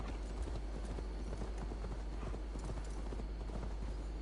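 Video game hoofbeats clip-clop steadily from a mount that runs poorly, over a loud, constant background hum and noise with no talking.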